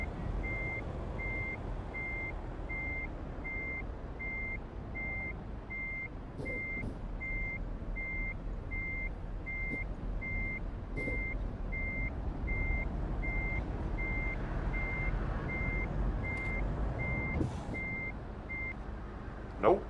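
In American Truck Simulator, a truck backing a trailer emits steady, evenly spaced reversing beeps over a low engine rumble, with occasional hiss and clunks, continuing for about twenty seconds.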